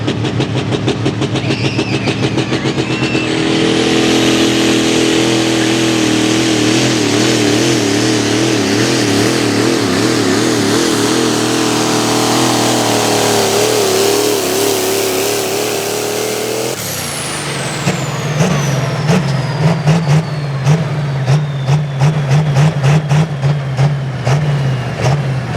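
A diesel 4x4 truck strains down the track in a pulling competition at a county farm fair, its engine roaring loud and sustained with rising and wavering pitch, then dropping to a rougher, pulsing idle near the end.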